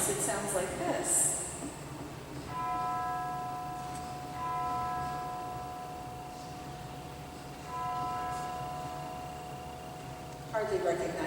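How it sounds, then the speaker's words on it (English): Alleluia melody played on organ chimes in a church, sustained bell-like tones ringing in phrases over a faint hum, fairly quiet and distant. "But if I play it on the chimes, it sounds like this."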